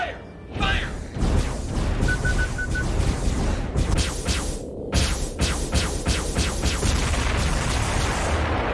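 Weapons fire in a space battle from a science-fiction TV series: a loud, rhythmic run of heavy booming blasts repeats steadily over a low mechanical hum.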